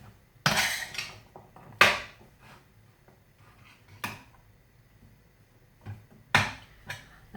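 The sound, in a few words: mixing minced beef and onions in a pan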